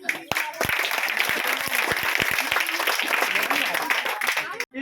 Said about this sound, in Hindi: आप लोगों से रिक्वेस्ट है कि एक ताली